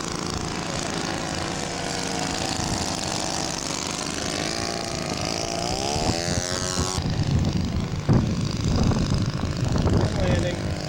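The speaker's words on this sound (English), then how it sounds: "coming in for an overshoot maneuver with his Siemens Schuckert" A scale model Siemens-Schuckert aircraft flies an overshoot maneuver, its propeller engine droning steadily and shifting pitch as it passes. The sound is moderately distant and continuous, with an announcer talking over it.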